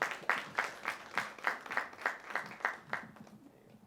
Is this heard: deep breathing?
no